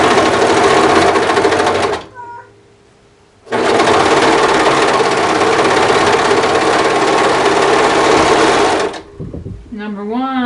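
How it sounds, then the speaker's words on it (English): A serger stitches the shoulder seams of a Lisbon cardigan in two long, loud, steady whirring runs separated by a short pause, followed by a brief voice at the end. "I'm just going to serge everything today."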